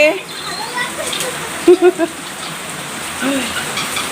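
Steady rain from a cyclone patters on surfaces throughout, with a few brief voice-like sounds and faint background activity mixed in.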